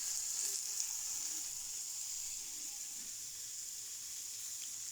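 Cooked shrimp drop into a pan of pasta with olive oil, cheese and dill, and a steady bright sizzle hisses close and even throughout with no speech.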